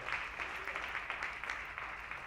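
A church congregation applauding during a sermon, many hands clapping in a dense, steady round of applause with no pauses.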